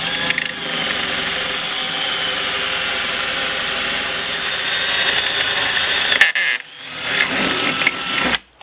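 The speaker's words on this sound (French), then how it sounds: "à l'aide d'une perceuse, petit forêt, le forêt doit s'inscrire complètement dans le trou, et maintenant il faut usiner" A small metal drill bit in an electric drill bores out pop rivets holding a car number plate, a steady whirring grind running continuously for several seconds before cutting off, then a brief renewed burst near the end.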